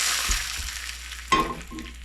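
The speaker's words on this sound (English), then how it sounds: "I'm gonna take the hot peanut oil and drizzle it over." Hot peanut oil sizzles loudly as it is drizzled over steamed nenue fish, a sharp hissing burst after a few soft clinks, then fading crackle.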